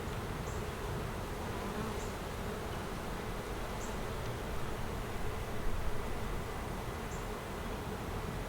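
Honey bees buzz steadily in a dense, close swarm during a backyard hive inspection in North Port, Florida, a continuous droning hum with no voices.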